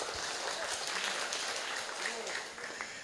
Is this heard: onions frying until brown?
no